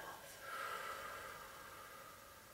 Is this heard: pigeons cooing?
no